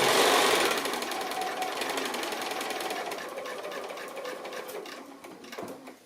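A sewing machine stitching across a fabric seam, a rapid, even mechanical chatter that starts loud and close, gradually slows and softens, then stops after a final clunk, with no talking.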